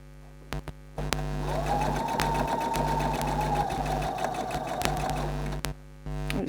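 A sewing machine stitching piping runs in one long steady whirring burst after a few short clicks, close and alone, stopping briefly near the end before starting again.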